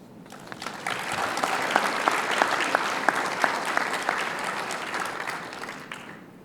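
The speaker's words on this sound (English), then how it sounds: "please join me in one more round of applause" Audience applause fills the room at the 2021 Iowa PGA golf awards luncheon, rising from quiet to a full, steady round of clapping with a few sharp individual claps standing out, then fading near the end.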